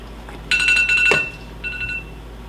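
An oven timer alarm sounds while baking in a home kitchen: a loud, close run of rapid electronic beeps, a brief clatter, then a second shorter burst of beeps, with no talking.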